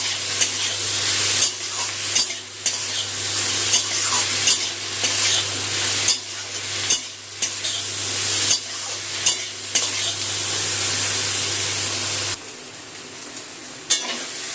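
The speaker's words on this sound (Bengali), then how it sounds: "নুন হলুদটা দিয়ে চিংড়ি মাছটা ভেজে নেব।" Prawn heads fry with salt and turmeric in a hot pan, a steady loud sizzle broken by frequent scraping stirs, with no talking.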